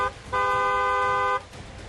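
A single car horn blares for about a second, loud and steady, against quiet background noise.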